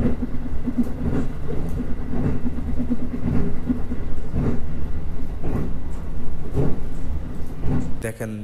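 Passenger train running on the Howrah to Agra route, heard from on board as a loud, steady rumble with a recurring clickety-clack of wheels over rail joints, and someone talking over it.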